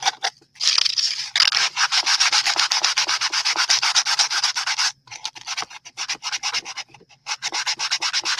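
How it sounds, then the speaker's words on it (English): Rapid back-and-forth rasping of sandpaper on a small wooden tray, sanded by hand close up, in steady bursts with a few brief pauses. "I sure wouldn't want to have to do this sanding by hand if this were a big project."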